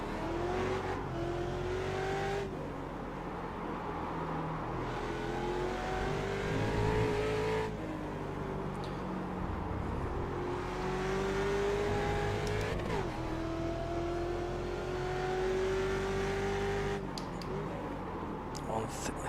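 A Mustang race car in the iRacing sim at Okayama revs loudly and continuously, its engine pitch climbing through gears and dropping with throttle-blipped clutchless downshifts, while a voice talks over it.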